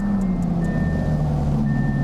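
A video-game Audi R8 convertible idles with a steady, loud engine drone and a faint high whine, heard alone and unbroken for a couple of seconds.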